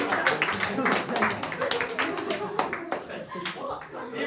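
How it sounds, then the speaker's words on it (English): A group claps together in a quick burst of applause, with voices chattering underneath. "Can everyone give him a clap?"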